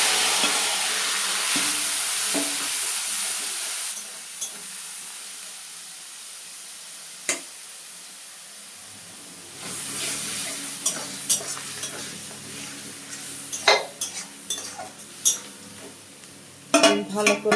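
Ground paneer paste with dried chilli and panch phoron spices fries in a pan, a close, steady sizzle that fades midway, then a spatula scrapes and clinks against the metal in irregular, louder bursts.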